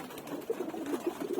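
Domestic pigeons coo softly in a loft, a few low, rounded calls repeating at an easy rhythm and sitting close but quiet against a faint background hiss.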